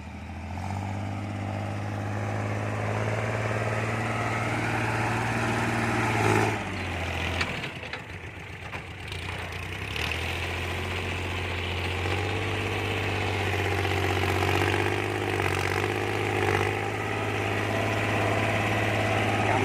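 A 28-horsepower four-wheel-drive Kubota-type tractor engine idles steadily and close, a constant low throb that briefly drops and roughens midway before settling back, with someone talking over it.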